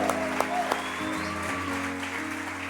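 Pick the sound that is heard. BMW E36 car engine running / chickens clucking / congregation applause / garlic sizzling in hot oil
congregation applause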